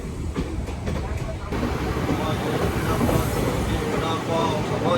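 The Vasco–Tirupati express train running, a steady rumble with rhythmic clatter from the wheels, heard close, with a person talking over it.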